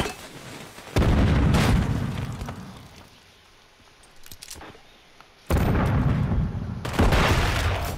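Bursts of gunfire in the video game Call of Duty: a loud volley, a quieter lull with scattered pops, then two more heavy bursts close up.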